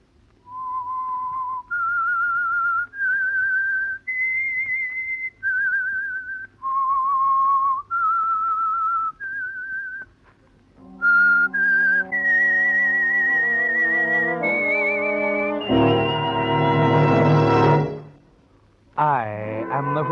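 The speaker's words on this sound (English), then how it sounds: "That whistle is your signal for the Signal Oil Program," A whistled tune serving as the signal of the Whistler radio program: a clear solo melody of sustained notes, joined midway by orchestral accompaniment swelling to a loud chord before a brief pause.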